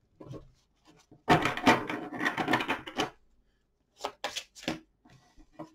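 A deck of oracle cards is shuffled up close in quick papery bursts: a long flurry of riffling, a pause, then a few shorter shuffles and taps, with no talking.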